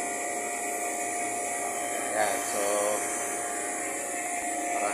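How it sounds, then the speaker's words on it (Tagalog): Two vacuum pumps run together evacuating a refrigeration system, a steady loud mechanical drone and whine throughout, with brief talk over it. "makikita nyo dalawa yung ating vacuum na ginagamit para sabay itong binabacuum"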